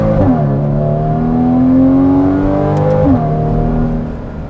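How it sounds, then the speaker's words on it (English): Porsche 981 Cayman with factory sport exhaust and PDK gearbox, heard from inside while driving: a loud, steady engine note rising and falling through the revs, with a gear change partway, then easing off at the end. "He likes to listen to the exhaust note here."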